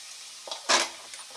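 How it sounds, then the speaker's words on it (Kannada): Coriander seeds, cumin and dried chillies dry roasting in a pan, with a soft rustle and scrape of stirring and one brief louder stir-and-rattle burst, close and quiet. "ಒಣಮೆಣಸನ್ನು ಕೂಡ ಡ್ರೈ ಮಾಡ್ತಾ ಇದ್ದೀನಿ."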